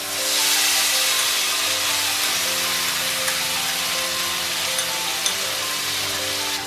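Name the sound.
frying ginger, green chilli, garlic and onion paste in oil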